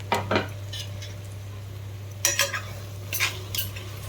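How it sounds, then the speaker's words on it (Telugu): Mint and coriander being stirred into tomato rice in a pot: a few short scrapes and clinks of a spoon against metal in separated clusters over a steady low hum, close, no speech. "పుదీనా కొత్తిమీర వేసేసి బాగా ఒకసారి కలుపుకుందాము."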